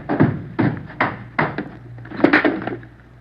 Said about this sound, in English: Throw your gun down the stairs ahead of you.